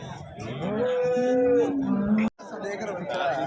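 A Jersey cow gives a long, loud moo close by at a Sunday cattle market in Athani, with people chatting around it.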